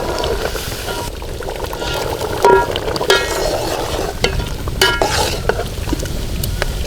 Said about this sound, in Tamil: ஒரு கிண்டு விடுவோம்